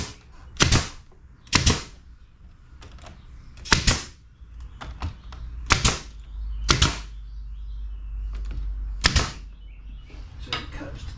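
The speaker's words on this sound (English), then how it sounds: "Just a couple little brad nails in here." Brad nailer firing nails into porch trim, sharp loud snapping pops spaced a second or two apart, about eight shots with faint handling noise between them.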